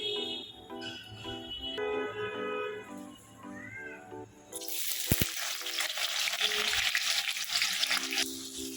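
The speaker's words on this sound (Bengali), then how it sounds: "আমি এইখানে পেঁয়াজের বেরেস্তা বানাবো" Sliced onions go into hot oil in a pan to fry into crisp birista, a loud bright sizzle erupting midway and holding steady after a stretch of quieter tonal kitchen sounds.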